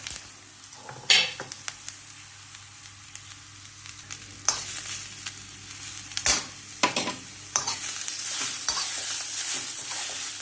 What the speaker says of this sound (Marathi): बघा आता 1-2 मिनटं चांगलं परतून घ्यायचं.